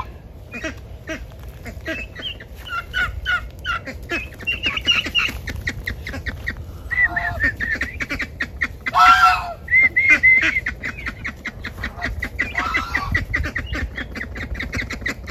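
Two juvenile ducks in an L-shaped pen shared with turkeys. Loud, close quacks come in irregular bursts, some rapid and repeated, over low background noise.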